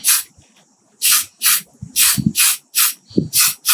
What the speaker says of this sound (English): I'm going to get my hairspray, and I'm just going to get my cup